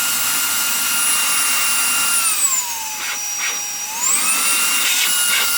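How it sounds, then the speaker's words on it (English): A Reikiya mini handheld cordless vacuum cleaner with its vacuum attachment fitted runs steadily and close, a high whine that dips lower in pitch midway as the load changes, then rises again. "Now it's attached, and you have the vacuum attachment on there."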